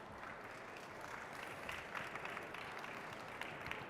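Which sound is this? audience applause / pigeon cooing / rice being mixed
audience applause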